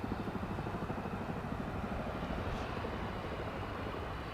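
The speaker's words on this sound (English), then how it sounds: "I can hear the distinctive helicopter whoop whoop whoop whoop, but I don't see it." A steady, rhythmic low-frequency thumping of helicopter rotors near Dallas/Fort Worth Airport, continuous and moderately loud, with broad engine rumble underneath and no voices.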